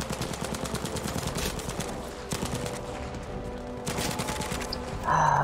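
Lewis gun machine gun fire in the video game Battlefield 5, dense rapid bursts of automatic shots rattling continuously with scattered distant gunfire, a brief lull in the middle before the firing resumes.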